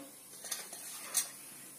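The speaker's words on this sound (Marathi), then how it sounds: "त्याच्यात फोडणीला मी जिरे घालते" Cumin seeds sizzle in hot oil while tempering a Maharashtrian vegetable dish, a faint soft hiss broken by two small sharp crackles.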